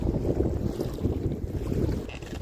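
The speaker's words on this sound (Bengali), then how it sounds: "চারিদিকে মেঘ ঝোড়ো হাওয়া উঠছে" Strong, rumbling stormy wind buffeting close by on the water in the Sundarbans, a heavy low roar that surges and eases in gusts.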